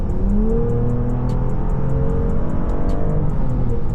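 A BMW X7 petrol SUV accelerating in comfort mode, a smooth steady engine drone with rising tonal pitch heard from inside the cabin, loud and continuous with a faint regular ticking above it.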